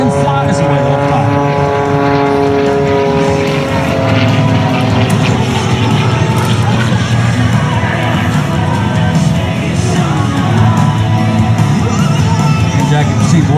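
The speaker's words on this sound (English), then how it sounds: "demonstrating the power of horsepower that can control the extra 300 airplane" Extra 300 aerobatic airplane performing at an airshow, its propeller engine droning loudly and steadily throughout, with shifting pitch as it maneuvers, under constant crowd and commentary noise.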